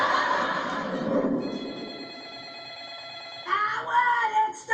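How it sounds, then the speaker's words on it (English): A telephone rings with a steady electronic tone after a burst of noisy voices, then other sounds and voices return over it. "it's the phone!"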